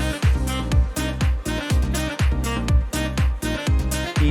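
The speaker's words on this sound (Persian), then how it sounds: "این صدای ساکسیفون منه یا همین صدای ساکس منه." Saxophone line sitting within a full music mix, with steady rhythmic hits and bass under it, loud and continuous throughout.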